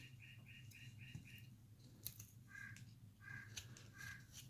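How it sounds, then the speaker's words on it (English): Bird clock chiming its hourly bird call, a faint series of repeated chirping and warbling phrases over a low steady hum, heard indoors near a woodcarving bench. "that is my bird clock going"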